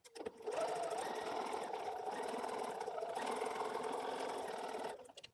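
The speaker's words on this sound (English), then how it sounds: "I will see you at the sewing machine." A sewing machine stitches a quilt block in one continuous, even whirring run lasting several seconds, close and steady before stopping abruptly.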